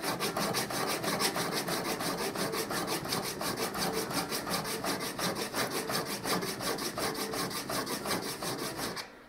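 A 70mm kanna plane blade is stroked back and forth across a 1200 grit Atoma diamond plate to sharpen its bevel. The rasping strokes come in an even, rapid rhythm, close and steady, with no talking, until they stop near the end.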